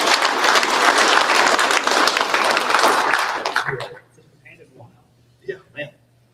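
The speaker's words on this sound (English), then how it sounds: "So round of applause one more time for everybody that" Audience applause at the Drag & Drive awards ceremony at PRI, a dense burst of clapping for about three seconds that fades out, followed by someone speaking.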